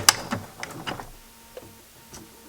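A sewing machine zigzag-stitches over yarn on its longest stitch and widest width to gather a tiered maxi skirt, giving quick bursts of close mechanical clatter in the first second, then sparse faint ticks.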